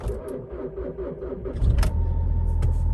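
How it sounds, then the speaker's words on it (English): A Volkswagen TDI diesel engine with 536,000 miles cranks for a moment in a cold start, then catches and settles into a rough, rumbling idle, close and loud. "So we're gonna give her a cold start."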